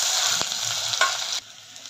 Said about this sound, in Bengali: পেঁয়াজটা ব্রাউন হওয়া অবধি আমি অপেক্ষা করছি